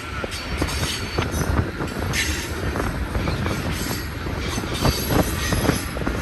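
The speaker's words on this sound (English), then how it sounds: "This train's got some weight on it." A heavy BNSF manifest freight train rumbles steadily past at close range on Sullivan's Curve, Cajon Pass, with wheels clanking rhythmically on the rails and occasional metallic squeals over a continuous roar.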